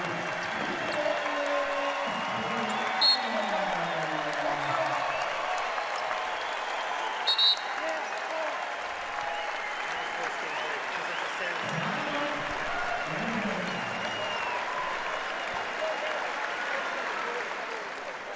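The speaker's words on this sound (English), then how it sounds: "And a standing ovation for Cooper." A basketball arena crowd rises in a standing ovation, with sustained applause and cheering filling the space, broad and steady under a commentator's voice.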